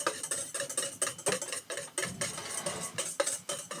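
A whisk or spoon clinks rhythmically against a bowl while hollandaise sauce of egg and butter is mixed, quick close tapping strokes with brief pauses, fairly quiet and without speech.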